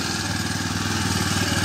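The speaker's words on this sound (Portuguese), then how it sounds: "Que motor silencioso, hein?" A new four-stroke motorcycle engine idles quietly and evenly nearby, a low steady putter with a smooth rhythmic pulse.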